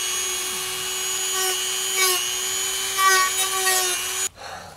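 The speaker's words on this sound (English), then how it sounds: "I'm just gonna use a Dremel, cut like right along here." A Dremel rotary tool cuts into a part inside a work van during a sound system install, giving a loud, steady high-pitched whine with slight pitch shifts that stops abruptly near the end.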